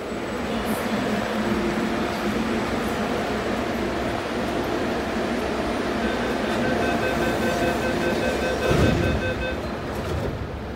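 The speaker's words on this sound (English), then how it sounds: "Now we wait for the train to leave." An MTR TCL A-Train pulling out of a station, with a steady rumbling drone of running gear and motors, a high whine and tonal hum building, and a brief louder burst near the end.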